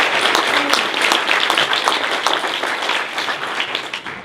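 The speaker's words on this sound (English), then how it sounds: "Give a big round of applause" Audience at a 40th birthday roast applauding, a dense, steady wash of many hands clapping close by for a few seconds.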